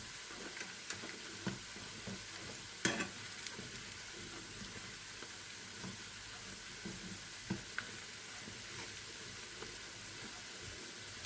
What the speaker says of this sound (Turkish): Güzel olması için çıtır çıtır arkadaşlar iyi kızartmamız lazım